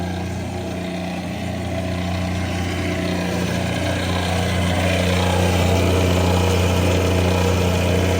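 A diesel fuel polishing pump system runs on a boat, giving a loud, steady engine-like hum with a constant low drone that grows slightly louder toward the end, with no speech over it.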